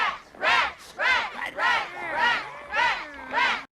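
A carnival crowd in the horror film Ghoulies 2 cheers and chants in rhythmic bursts of several voices, rising and falling about five times, loud and close.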